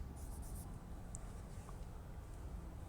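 Chalk or marker writing the Greek letter beta on a board in a mathematics lecture, a faint scratchy stroke against steady room hiss with no speech.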